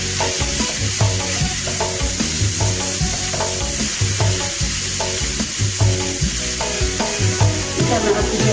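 Food stirred in a pan over medium heat while making kue dadar, a steady sizzle with a rhythmic scrape and knock of the utensil against the pan, loud and close.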